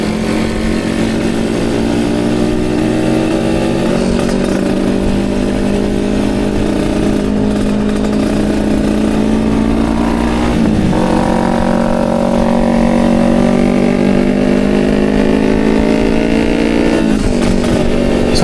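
Kawasaki Ninja 150 RR motorcycle pulling away, its engine loud and close, pitch climbing and dropping through several revs and gear changes as it rides off.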